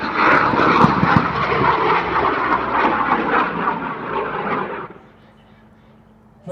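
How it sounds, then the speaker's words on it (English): Nixus amateur rocket ignites and lifts off at EuRoC 2025, a loud, broad roaring blast that holds steady for about five seconds before cutting away to quiet, with brief crackle early on. "Ignition liftoff."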